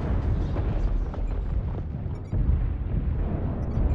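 In MechWarrior Online, a Fenris (Ice Ferret B) mech fight brings a destroyed target's explosion: a dense, continuous rumbling roar of blasts and debris, loud and sustained throughout with a brief dip partway.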